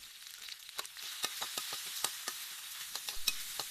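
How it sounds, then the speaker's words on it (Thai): Red curry paste stir-fries in hot oil in a wok, giving a steady close sizzle broken by frequent sharp scrapes and taps of a spatula against the pan. No one speaks. "ผัดพริกแกงให้ทรงกลิ่นหอมเลยนะคะ"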